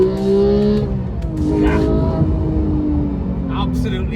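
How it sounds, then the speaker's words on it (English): Porsche 911 GT3 with a manual gearbox revving hard toward 9000 rpm, engine pitch sweeping up and falling in harmonic bands across several seconds. "All right, so let's rev her out one more time."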